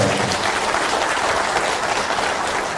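A lecture-hall audience applauds Dr. Lee Jeong-jae at the end of a history lecture, a dense, steady wash of many hands clapping at once, loud and sustained throughout with no voices over it.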